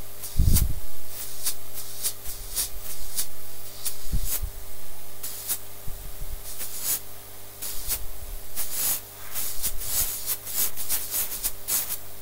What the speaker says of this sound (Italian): si sente anche il rumore che effettivamente l'aria esce ed esce con una buona potenza